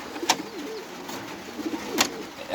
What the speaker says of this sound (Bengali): এবং আরো একটা ধরেছি কবুতর।